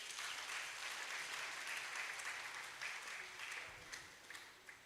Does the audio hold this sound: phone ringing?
no